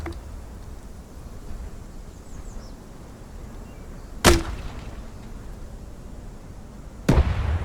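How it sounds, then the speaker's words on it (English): Grenades in a video game battle explode twice, each a sharp, heavy blast a few seconds apart over a low, steady background rumble. "The wind is carrying my grenades a bit to the side, as you can see."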